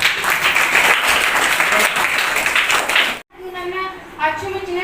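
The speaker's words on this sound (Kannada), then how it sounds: "ಒಂದು ಜೋರಾದ ಚಪ್ಪಾಳೆ." Loud, sustained applause from a crowd at a school opening event, dense clapping that cuts off abruptly, followed by a voice speaking over a quieter background.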